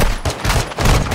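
Rapid gunfire from the PC game Call of Duty: Modern Warfare 2 sounds as a loud, close burst of several overlapping shots that fill the whole moment.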